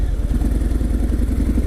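A 2018 Harley-Davidson Fat Bob with its 107 cubic inch V-twin runs steadily while riding, giving a loud, continuous low rumble with even pulsing throughout.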